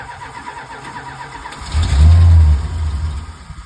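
A 1976 Dodge Coronet police car's 440 V8 cranks and catches, firing roughly on only a few cylinders with a loud, uneven low rumble close by after a second or so of starter whine.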